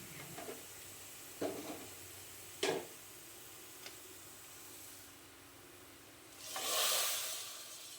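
A burst of hot-oil sizzling swells near the end as tempering spices hit the oil for moong dal, preceded by a few sharp ticks and pops over quiet background.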